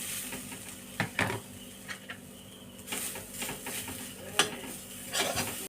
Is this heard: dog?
no